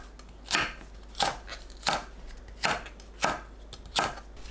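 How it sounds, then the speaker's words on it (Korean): A knife slices Cheongyang chili peppers diagonally on a cutting board, six crisp, evenly spaced chops about half a second apart, close and clear with no talking. "청양고추를 어슷 썰어주세요."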